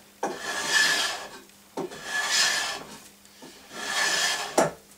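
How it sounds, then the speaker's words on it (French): Hand plane shaving wood held in a vise during restoration of a forged splitting maul, three long rasping strokes in an even rhythm, close and fairly loud. "faire gaffe à pas poncer l'étau au passage avec le rabot"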